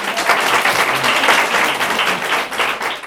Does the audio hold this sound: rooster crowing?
no